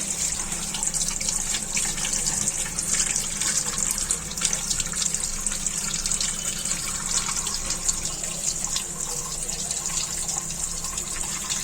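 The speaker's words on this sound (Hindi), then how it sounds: "पोहे को पहले धो लेंगे।" Flattened rice (poha) being rinsed under running water for Mumbai-style kanda poha, a steady, close hiss of tap water and sloshing that continues evenly throughout with no talking.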